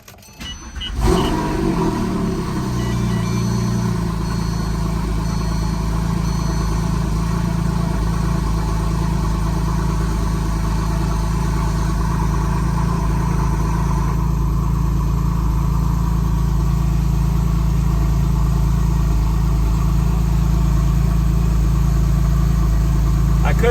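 A Porsche 911 engine, cold and freshly cleaned at the throttle body, starts and then settles into a steady, loud idle that holds evenly with a low hum and no revving.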